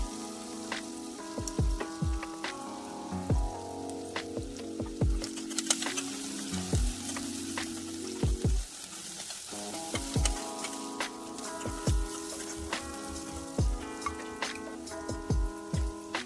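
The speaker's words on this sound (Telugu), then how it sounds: "2 ఉల్లిపాయ ముక్కలు అలాగే 4 పచ్చిమిర్చి చీలికలు వేసుకుని దోరగా వేయించుకోవాలండి." Chopped onions and slit green chilies fry in oil with a steady sizzle, broken by repeated clacks of a spatula scraping and stirring the pan, all close and alone with no voices.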